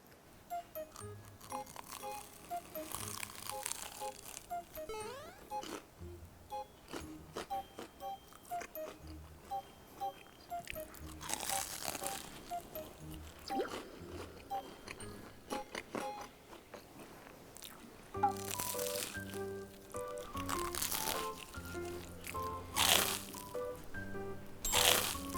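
Crunchy fish-shaped pastry, a winter snack, being bitten and chewed up close, with irregular crisp crunches and chewing sounds that grow busier and louder toward the end; no talking.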